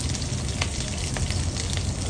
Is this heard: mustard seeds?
yes